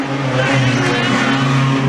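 Wingless sprint cars racing at a Southern Forrest heat, a loud, close, sustained engine drone with steady tonal hum as cars run down the back straight, commentary voice faintly underneath.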